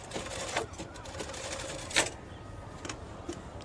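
A sewing machine stitches a sleeve panel in short, faint, intermittent runs, with light clicks and taps between bursts of stitching.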